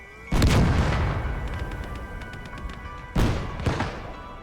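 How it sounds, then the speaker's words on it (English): Enemy mortar fire in a video game lands as two heavy, booming thuds a few seconds apart, each with a rumbling tail, loud and close. "Was that a enemy mortar?"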